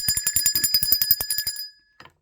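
A bell rings rapidly in a continuous metallic trill for about a second and a half, then stops abruptly, followed by a brief faint sound.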